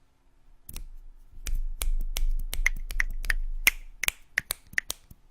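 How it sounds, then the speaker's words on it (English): Sharp, close finger snaps ring out one after another in an irregular series, some in quick pairs, each a crisp click over a low background murmur. "we're snapping our fingers"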